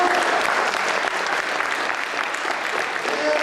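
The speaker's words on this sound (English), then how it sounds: "Give her a great big round of applause." A full audience claps loudly and continuously at a stage hypnosis show, a thick, sustained wall of applause with no break.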